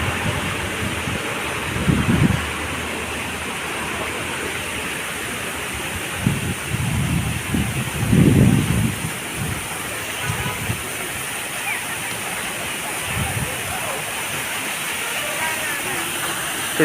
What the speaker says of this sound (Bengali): ঝর্ণা নদীতে যেয়ে পড়ছে।